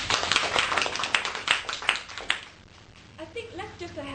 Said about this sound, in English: I think you definitely deserve a big applause